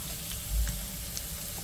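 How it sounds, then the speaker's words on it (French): Curry paste and ginger liquid poured into a hot pan with giant lobsters and prawns, a steady close hiss and gentle splash of liquid meeting the pan over a soft sizzle, with no voices. "je vais mettre le liquide, la préparation à base de pâte de curry et de gingembre. Voilà, donc on verse."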